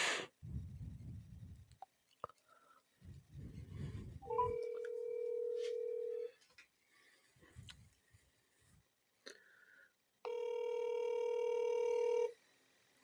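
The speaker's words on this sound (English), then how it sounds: "I'll try calling him on his normal phone." A phone call being placed: quick keypad dialing beeps, then a steady electronic tone, a pause with faint low rumbling, and another long held tone toward the end.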